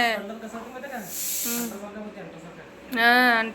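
A pressure cooker whistle gives off a brief, bright steam hiss in the middle of steady talking, with voices continuing before and after it.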